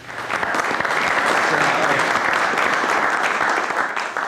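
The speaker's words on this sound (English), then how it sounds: "Thanks for the applause" An audience at a prison film school session gives a guest speaker, a director of photography, a loud, sustained round of applause, steady and dense throughout.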